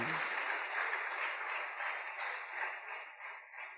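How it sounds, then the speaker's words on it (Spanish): Applause from a church congregation during a Spanish-language sermon: a steady, fairly faint wash of many hands clapping that carries on evenly for several seconds. "Dele un aplauso al Señor."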